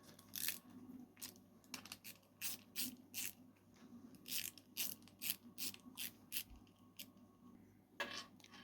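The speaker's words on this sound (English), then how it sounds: "So we ratchet." A hand ratchet snugs bolts on a Kawasaki ZRX 1200 engine during a rebuild, giving quick, crisp bursts of clicking in short irregular strokes, close and fairly quiet, with no voices.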